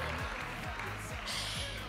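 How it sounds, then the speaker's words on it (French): An audience at a graduation ceremony in a convention hall applauds the three top graduates, a faint, continuous patter of many hands clapping at an even level, with a voice faintly present. "On applaudit bien fort les 3 majors, Sarah, Irilou Samira et Vintuzan."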